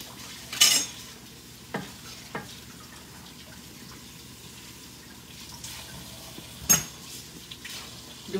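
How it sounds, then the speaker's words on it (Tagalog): Sausage and pork frying in a pan, a quiet steady sizzle broken by a few sharp scrapes and clinks of stirring. "nag-brown-brown na siya"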